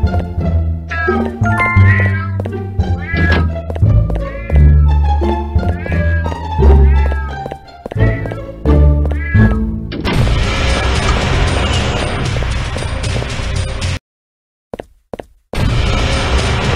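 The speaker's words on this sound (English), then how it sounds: "Hello, kitty." Cat meows in the horror video game Scary Stranger 3D: a run of loud, repeated, pitched meowing calls in quick succession, followed by a burst of dense noise and abrupt cut-outs into silence.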